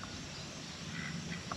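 Ducks quack at a campsite, giving a few faint, short calls near the end against a constant outdoor background hiss, with no voices.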